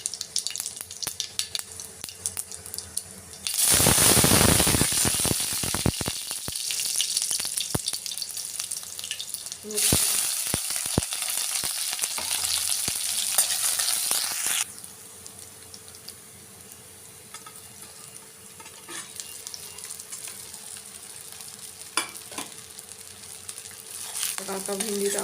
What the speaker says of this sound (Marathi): चला फोडणी देऊयात